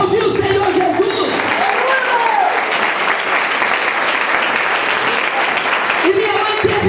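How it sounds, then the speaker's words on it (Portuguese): A church congregation applauds in a sustained, dense wash of clapping lasting several seconds, with a preacher's voice heard briefly before and after. "Pode aplaudir o Senhor Jesus."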